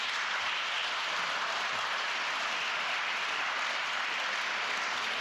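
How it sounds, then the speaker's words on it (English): Audience applause for student athletes at an awards ceremony, a steady, dense wash of clapping filling the whole stretch at moderate level with no talk over it. "That's a big deal, so give yourselves a round of applause."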